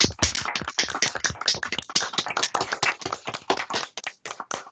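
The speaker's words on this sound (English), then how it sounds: "put on their microphones and try and do an applause" Participants in an online meeting unmute their microphones and clap together, a close, choppy patter of overlapping claps from several people, uneven and irregular with brief gaps as it thins near the end.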